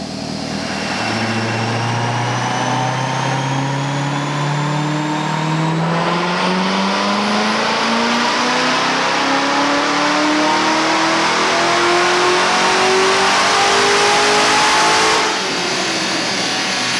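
A loud 2019 C7 Corvette ZR1 engine on a dyno revs steadily higher in one long sustained pull, its pitch climbing for over ten seconds before abruptly cutting off.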